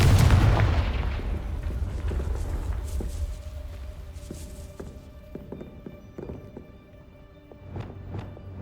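A Confringo blasting curse explodes in the Hogwarts Legacy video game, a heavy booming blast that rumbles and fades, followed by softer scattered thuds and clatter like footsteps.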